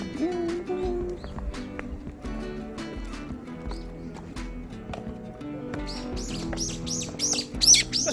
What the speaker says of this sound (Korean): 아름다운 새소리도 들리고요